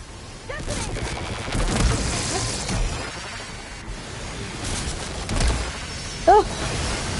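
Explosions in the video game Horizon Forbidden West Burning Shores roll out in a continuous rumbling barrage with crackling gunfire-like bursts, loud and dense, with voices now and then over the action.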